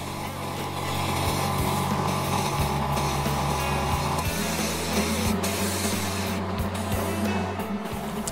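White paint sprayed from an airbrush onto the underside of a 1/48 Tamiya F-4B Phantom II scale model kit, a steady close hiss with an underlying compressor hum running throughout, no speech.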